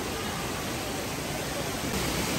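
A constant, dense roar of falling water from a waterfall in the Philippines, loud and steady throughout with no breaks.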